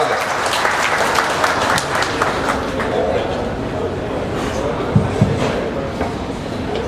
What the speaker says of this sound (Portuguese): recebe nossa calorosa salva de palmas